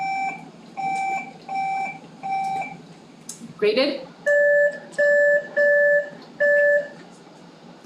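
Electronic quiz buzzers are tested at a high school Knowledge Bowl, giving a set of four repeated beeps, then a lower set of four, with a brief burst of voices in between.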